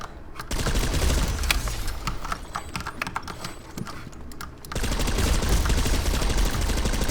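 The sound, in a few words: gunfire at targets in a video game shooting practice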